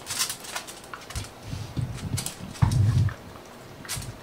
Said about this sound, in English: There you go. Those are my dogs. Crunchy, so crunchy.